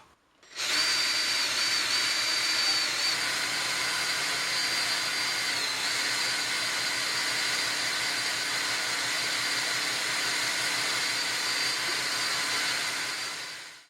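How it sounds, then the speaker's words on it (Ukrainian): A cordless drill-driver powers a pump transferring wine out of a large barrel, producing a loud, continuous whirring motor drone that starts abruptly and holds steady for about thirteen seconds before cutting off. "Зараз я натисну курок шуруповерта і в нас відбудеться процес переливання"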